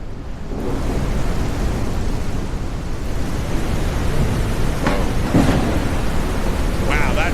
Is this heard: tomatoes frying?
no